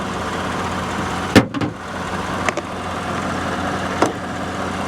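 A 2010 GMC truck engine idles steadily at close range, a low continuous rumble broken by a few sharp knocks or clunks, likely a door, partway through.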